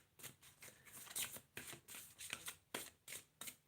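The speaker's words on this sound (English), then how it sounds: "These cards are super fun to shuffle, but they don't always come out." A tarot deck is shuffled by hand in a quiet room, giving about a dozen crisp riffling bursts in an uneven rhythm, close and soft, with no talking.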